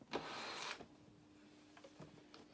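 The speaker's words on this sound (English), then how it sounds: "Put it into the sewing machine." A sewing machine starts stitching a quarter-inch fabric seam with a brief whirring motor burst, then settles into a faint steady hum with a few soft clicks, quiet and close.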